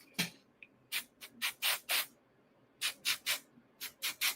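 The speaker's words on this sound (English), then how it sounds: "I'm actually going to spray real quick with calamine." Calamine lotion sprayed onto an arm in a series of short hissing bursts, two quick ones, then four longer, then three, with quiet gaps between and no talking.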